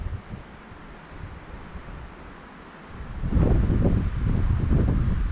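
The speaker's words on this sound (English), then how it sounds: "A little windy." Wind gusts across a lakeside campsite in the Adirondacks' St. Regis Canoe Area in May, a soft breathy rush that swells into louder buffeting on the microphone halfway through, with no talking.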